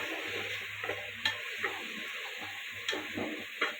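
Mint leaves sautéing in a pan over a low flame for chicken biryani, a steady soft sizzle with occasional sharp clinks and scrapes of a stirring spoon, close and alone with no talk.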